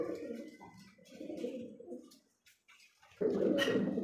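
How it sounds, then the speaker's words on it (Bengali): Fancy jet-black pigeons at a pigeon farm coo in low, throaty rolling phrases, close by, with a short quiet gap before a louder burst of cooing at the end. "আর এটা হচ্ছে শৌখিন কবুতর দেখেন"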